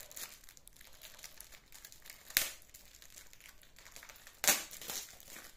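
Paper packaging of a diamond painting kit crinkles softly, with two sharp tearing bursts standing out, close and fairly quiet.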